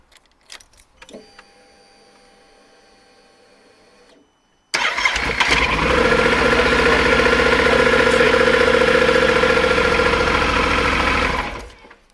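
Yamaha Super Tenere XT1200Z motorcycle powered on: a few faint clicks and a steady electrical hum, then the engine abruptly fires and settles into a loud, even idle for about seven seconds before cutting off.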